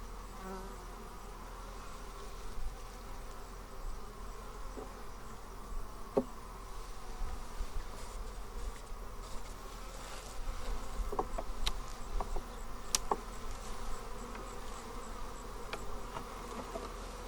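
Honey bees buzz steadily around an open hive during an inspection, a faint, continuous drone with occasional louder individual bees passing close.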